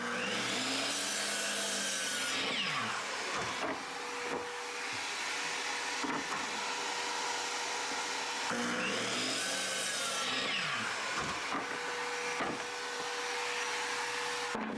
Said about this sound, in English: On my miter saw, I'm cutting those in half.